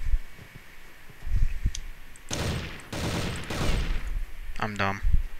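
Bursts of gunfire from a shooter video game, several loud rapid volleys spaced a second or so apart, with a brief chirping effect near the end and light background game noise.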